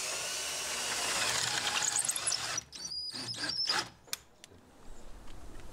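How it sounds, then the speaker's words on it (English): A power tool drives long screws through a uPVC window frame into masonry: a close, loud whirring whine that breaks into a few short bursts and then fades to faint clicks. "Long screws now anchor the window into the masonry."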